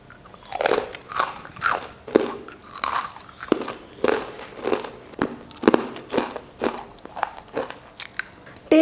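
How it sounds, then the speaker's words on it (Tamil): Crunchy homemade gram flour murukku is bitten and chewed up close, a steady series of loud brittle crunches and crackles roughly every half second, with no talking over it. "நல்லா மொறு மொறுன்னு சூப்பராக வந்திருக்கு முறுக்கு."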